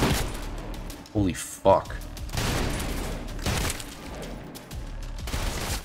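Heavy, punchy gunfire from a powerful weapon in the shooter Trepang2, with loud bursts and booming impacts over several seconds, while a man reacts with excited exclamations.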